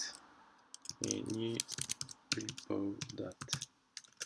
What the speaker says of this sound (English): let's type in git move repo.txt